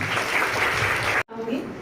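A crowd at a student award ceremony gives a bank manager a burst of applause, dense clapping that cuts off abruptly, followed by quieter room sound.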